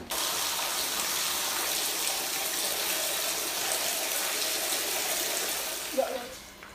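Crabapples are washed in a basin of water, giving a steady running, splashing wash that continues throughout at moderate loudness, with a brief clatter near the end.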